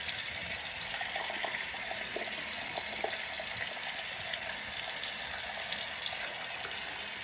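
Steady rush of tap water running into a sink while someone wets their face during a morning skincare routine, continuous and close, with faint splashes and no talking.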